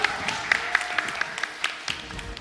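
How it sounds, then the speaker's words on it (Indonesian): A studio audience at a safety-themed game show applauds, a soft, even wash of many hands with a few sharper claps standing out near the front. "kita beri tepuk tangan untuk kita semua."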